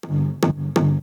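Three synth shot hits driven through Decapitator distortion and heavy compression, gritty and sustained so the tails run into one another, loud and alone.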